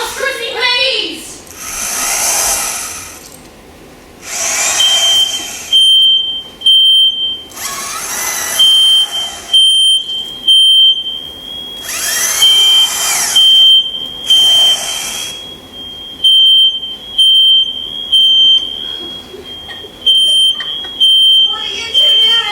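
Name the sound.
kitchen smoke alarm beeping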